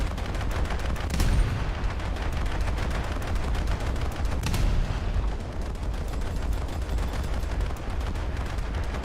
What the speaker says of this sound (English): They're shooting at aircraft.